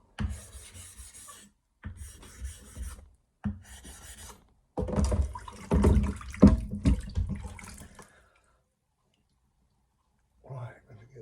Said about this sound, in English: Sharpen the edges.